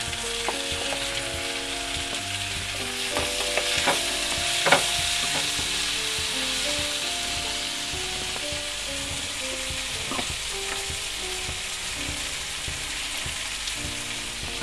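Tomatoes sauté in a pan for pepper mushroom gravy with a constant loud sizzle and intermittent stirring clatter, while soft background music plays underneath.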